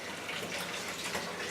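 Water pours and drains through a strainer while hops are strained out during home brewing, a steady close splashing trickle that runs through the whole short moment with no voices.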